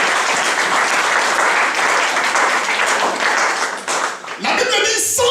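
Church congregation applauding and cheering in praise of the Lord, a dense, steady wash of clapping and shouts that fades briefly near the end before rising again.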